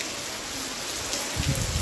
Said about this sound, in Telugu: చూడండి ఎంత వర్షం వచ్చేస్తుంది